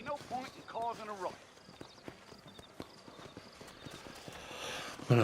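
Horse hooves clip-clop at a steady walk on a dirt street in the video game Red Dead Redemption, a soft even rhythm heard under and between spoken dialogue.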